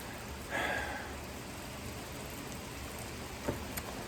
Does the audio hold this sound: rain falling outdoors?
yes